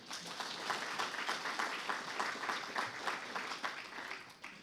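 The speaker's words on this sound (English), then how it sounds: "Dominic deserves another round of applause from you all." An audience at a community service awards event at a mosque in East London gives a sustained round of applause, steady and fairly distant, with no voices over it.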